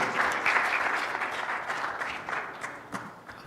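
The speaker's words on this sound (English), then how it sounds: "make a big applause to Stefano Mussolini" Audience members at an international One Health seminar in Bogor applaud speaker Stefano Mussolini. The clapping is fairly soft and even, lasts a few seconds and tapers off unevenly, with only faint talk.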